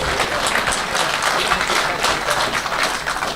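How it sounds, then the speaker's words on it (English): An audience applauds steadily at a radio-day gathering about offshore radio, a dense, even wash of many hands clapping close by, sustained without a break and with no voices over it. "Thank you very much for the applause"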